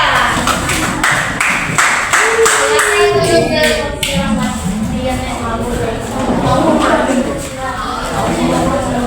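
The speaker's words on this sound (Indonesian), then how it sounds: "Kita tepuk tangan dulu untuk kelompok 3" Classroom pupils clapping for a group of students, a burst of close, crisp applause at the start that fades as a teacher's voice and children's talk take over.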